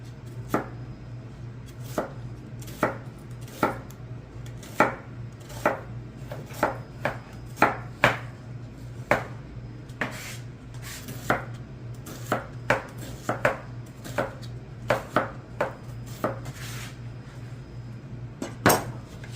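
A knife chops onions on a cutting board in a home kitchen, producing crisp, close, evenly spaced knocks over a low steady hum that continue for nearly twenty seconds without talk.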